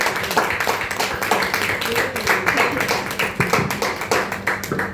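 A crowd applauds a guest being welcomed onto the stage at a Hindi-language event, with dense, continuous clapping that holds steady throughout at moderate loudness.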